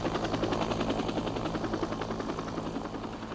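Evacuation helicopters landing at the embassy rooftop and compound give a continuous rhythmic rotor chop with a heavy engine drone, loud and close, holding steady without speech.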